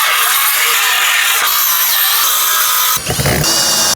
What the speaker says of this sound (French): On peut attaquer la scie circulaire.